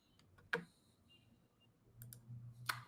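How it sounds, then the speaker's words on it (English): Computer keyboard and mouse clicks, a few sharp isolated taps with quiet gaps between them, close up against a low background hum. "I'm just typing. I'm clicking around to comments."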